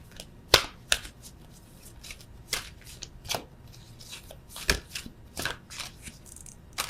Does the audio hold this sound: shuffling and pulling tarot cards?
yes